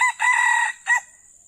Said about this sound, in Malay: Bunyi ayam kat situ je